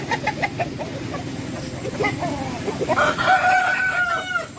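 An Indian-breed rooster in a farm garden flock gives a loud, drawn-out crow near the end, with softer clucks and fowl noises from other birds before it.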